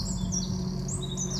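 Gulls cry out repeatedly at the seashore over a steady low rumble of wind and waves, their high calls rising and falling throughout.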